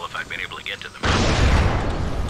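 A loud, sustained explosion from the zombie game Dying Light roars in suddenly after a stretch of speech and keeps rumbling without a break to the end.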